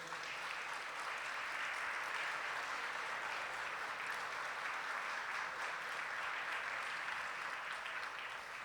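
An audience at a business conference applauds to welcome a speaker on stage, a dense, even wash of clapping held at a steady level from start to finish.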